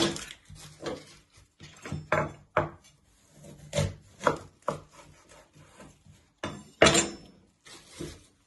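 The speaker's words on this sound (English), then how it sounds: "I like to flatten it so it's more easy to chop." Knife chopping an onion on a wooden cutting board, a series of irregular close, sharp cuts and taps with short pauses between strokes, one louder chop near the end.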